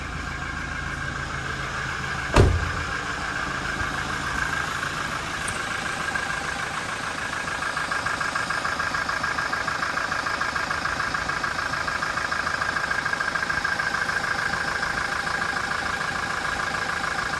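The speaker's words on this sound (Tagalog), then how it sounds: "So ayan talaga ang normal sounds ng mga makina ng Innova, Conquest, Fortuner." A 2019 Toyota Innova J manual engine idles smoothly and steadily at close range, with a single sharp knock or thud near the start.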